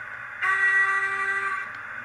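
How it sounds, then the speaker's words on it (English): Medium-length whistle from a Hornby Black 5 model steam locomotive's sound chip, a single clear, steady tone lasting about a second over quiet motor hum, close and alone. "number 3 is whistle medium."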